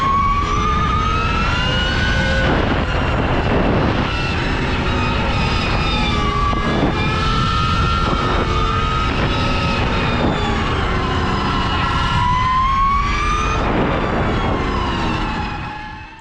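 An Energica Ribelle electric motorcycle riding fast, its rising and falling motor whine sweeping through several pitch changes over steady loud wind and road roar, continuous and close throughout.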